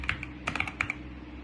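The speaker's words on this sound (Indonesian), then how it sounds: "Saya ketikkan next" Short burst of typing on a computer keyboard while entering a command in a terminal, several quick close keystrokes in an uneven rhythm.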